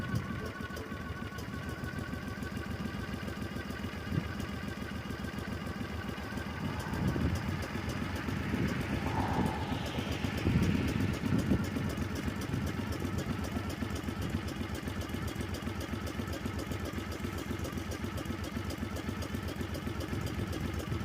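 An 18 hp V-twin minibike engine idles steadily after a cold start, off choke, with an even, close, mid-pitched rumble and a brief rise in revs midway.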